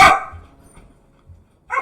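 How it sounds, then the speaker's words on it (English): Dogs barking indoors during a gaming stream, one loud close bark burst at the start and another sharper one near the end, with quiet room noise between. "Dogs!"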